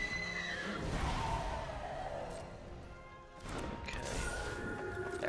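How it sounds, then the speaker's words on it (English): A rabbit creature card entering play in the digital card game MTG Arena lets out a horse-like neigh, a loud whinny around the start followed by a second burst near the end, with game effects between. "That rabbit really sounds like a horse coming into play."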